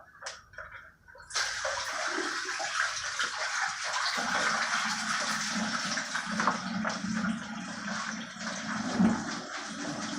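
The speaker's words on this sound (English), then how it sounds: "pour the water out" Water gushes and splashes steadily out of a Scrubba wash bag as it is emptied, a continuous close pouring rush lasting several seconds after a brief quiet start.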